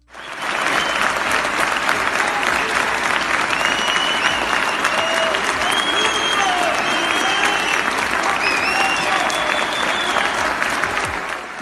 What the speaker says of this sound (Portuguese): Esse vídeo mostra o procurador sendo recentemente aplaudido de pé em um teatro de Curitiba durante um congresso de urologistas.